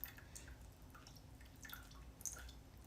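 Pepper sauce juice drips through a strainer in a home kitchen as sauce for posole, pork stew and tamales is worked, faint irregular droplets falling over a quiet background, no talking.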